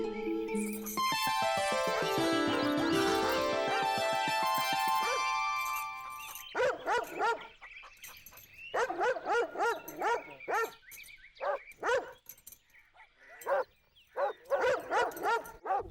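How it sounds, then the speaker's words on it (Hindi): A dog barks in sharp repeated bursts with yips and whimpers, following a swelling musical passage, with a faint jingle in between. "ये पागल कुत्ता भौंक रहा है"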